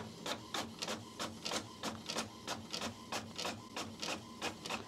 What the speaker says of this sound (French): Notre imprimante se lance et elle va nous sortir cette page d'aide